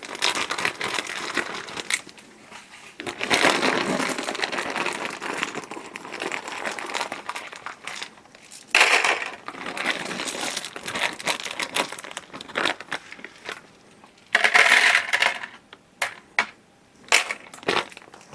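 Black plastic maintenance tokens from the board game Camping Season are handled and shuffled with a packaging bag, giving near, steady crinkling and crunching with a few sharper rustling bursts toward the end.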